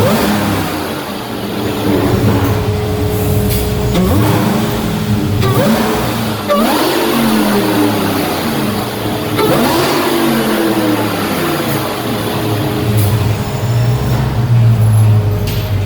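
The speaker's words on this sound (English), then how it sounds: "that intake is loud" A modified Dodge Hellcat V8 with an aftermarket intake and exhaust revs loudly and close by, with repeated rising and falling throttle blips over a continuous rumbling engine note and no speech.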